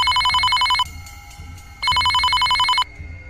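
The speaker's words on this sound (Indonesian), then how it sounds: "telepon kembali berdering." A telephone bell rings loudly in two long trilling bursts separated by a brief pause, close and alone with no talking.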